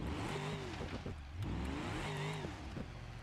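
A car engine in the BeamNG.drive driving game revs hard and accelerates, its pitch climbing through gears in two rising sweeps, loud and close and continuous, with no voices.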